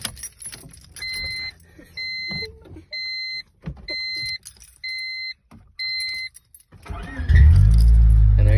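A manual-transmission car at a high school auto shop: a steady series of dashboard warning chimes plays while the key sits in the ignition, then the engine cranks and catches, settling into a loud close idle.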